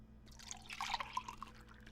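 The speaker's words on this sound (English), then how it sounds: "They use a water pouring sound." Faint, brief trickle of water being poured in the Still Life video game, a soft liquid splashing burst lasting about a second with no talk over it.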